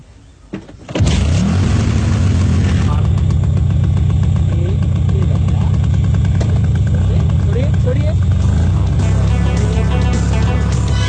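A motorcycle engine starts up and then runs steadily and loudly up close as the clutch is let out, with a voice heard over it.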